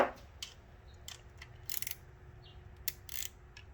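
A wrench tightens the coolant drain plug on an SV650 motorcycle, giving a few quiet, close metallic ratchet clicks and short scrapes in uneven bursts against near silence.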